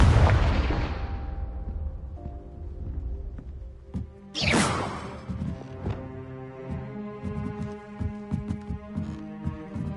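The Confringo fire spell in Hogwarts Legacy detonates in two loud booming blasts, each followed by a ringing, crackling tail and scattered magical chimes.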